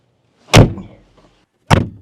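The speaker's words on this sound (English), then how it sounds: "You pull this down and then you have to hold the door because it's quite heavy." A heavy Mercedes C111 door shuts with two separate solid thuds, close up and loud, with near silence around them and no talking.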